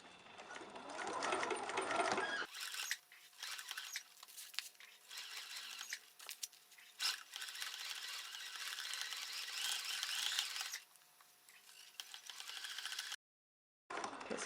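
A sewing machine stitches through a T-shirt in quick, rapid bursts separated by short pauses, its mechanical chatter close and fairly quiet, with no talking.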